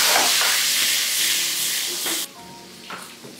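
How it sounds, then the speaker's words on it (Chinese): Pork tail frying in hot oil in a wok gives a loud, steady hiss and sizzle that drops sharply partway through, leaving quieter crackles. "起锅烧油，猪尾下锅爆香"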